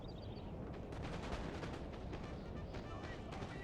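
Musket volley gunfire from the video game Napoleon Total War on grassy flatlands, a steady rolling crackle of distant massed shots that runs the whole time as one continuous, dense wash without pauses.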